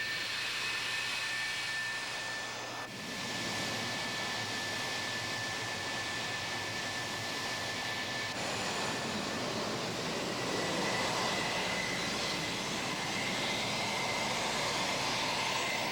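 An F-4G Wild Weasel jet roars in a sustained, broadband engine rush with a steady whine, loud and continuous, swelling slightly toward the end.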